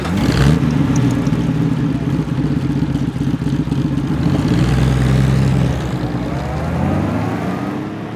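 A 1936 AC 16/80 prototype sports car climbs a hill, its mid-pitched engine droning steadily and close throughout, swelling and easing slightly with mechanical clatter and no talk.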